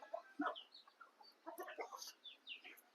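Desi village chickens cluck softly and intermittently while pecking at sprouted moth beans, a quiet, close scatter of short calls with no talking.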